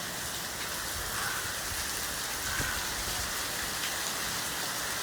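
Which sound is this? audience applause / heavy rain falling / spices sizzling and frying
heavy rain falling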